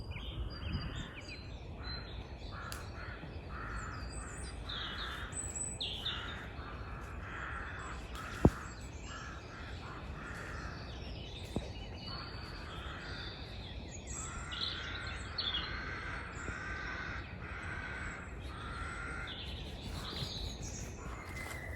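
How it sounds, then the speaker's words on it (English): Crows caw repeatedly outdoors on a sunny winter allotment, their harsh calls coming in irregular runs at moderate distance, with occasional smaller bird chirps over a steady open-air background. "And the birds"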